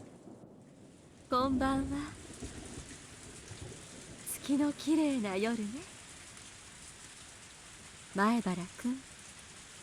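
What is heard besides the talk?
heavy rain in the video game Higurashi: When They Cry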